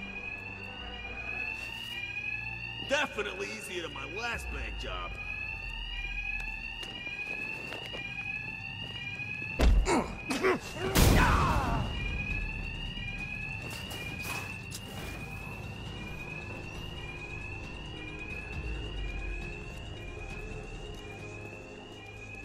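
Alarms ring nonstop in Batman Arkham Knight, a rapid repeating electronic tone running steadily through the whole scene, with thuds and impacts of a brawl and a voice occasionally talking over it.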